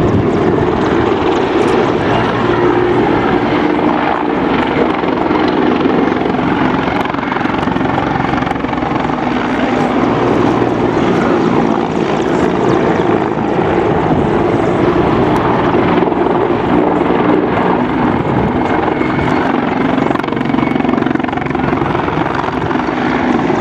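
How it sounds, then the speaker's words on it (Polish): Mi-24 Hind military helicopters fly past at a Polish Army open day, a loud, steady rotor thrum and turbine roar filling the air continuously with no talk. "Mi-24 powoli odlatują"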